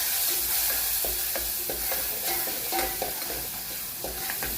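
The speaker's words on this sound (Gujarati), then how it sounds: "પછી આપણે એમાં ટમેટાં નાખ્યા છે." Chopped tomatoes and crushed garlic frying in oil for a thick-gravy potato curry, a steady loud sizzle with spoon stirring strokes clattering against the pan at irregular intervals.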